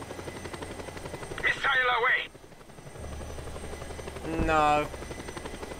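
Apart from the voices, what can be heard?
helicopter in the video game Just Cause 2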